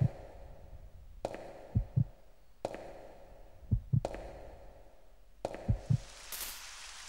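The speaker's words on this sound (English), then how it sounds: "My controller's vibrating and there's a heartbeat." Heartbeat effect from the video game Resident Evil Code: Veronica X: low, soft thumps in doubled pairs repeat about every two seconds, separated by sharp clicks and quiet ambience, with no talking.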